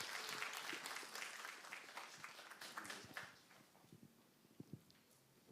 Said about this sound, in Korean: 한 박수 부탁드립니다.